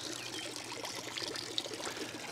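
Rainwater pours steadily from a diverter pipe into a garden pond, a faint continuous splashing trickle with no voices.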